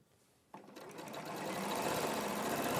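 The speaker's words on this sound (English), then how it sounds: "I'm just sewing that one to the centre of in between the 2 blocks" A sewing machine joining quilt blocks starts abruptly, then runs in a steady, fast whirring hum that builds slightly and holds, close and fairly loud, with no talk over it.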